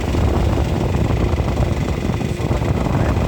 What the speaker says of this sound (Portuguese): o barulho do rolamento do ar-condicionado